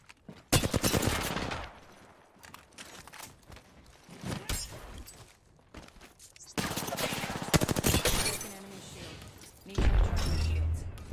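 Rapid gunfire bursts from Apex Legends rattle in repeated volleys, automatic weapon fire alternating with heavier thuds and pauses, loud and close, with a player talking over the shooting.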